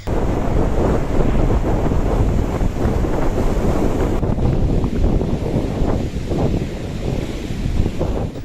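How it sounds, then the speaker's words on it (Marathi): Strong gusts buffet the microphone while rough sea waves crash and roar continuously close by on the coast at Malvan, with rain falling. "सोसाट्याच्या वाऱ्यासह पावसाच्या सरी बरसत आहेत समुद्र खवळला असून अजस्र लाटा"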